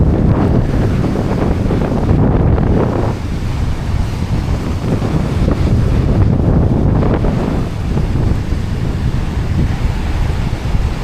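Strong typhoon wind blasts across a beach under a steady roar of big surf, loud and continuous with gusty surges buffeting the microphone, blowing sand about, no voices.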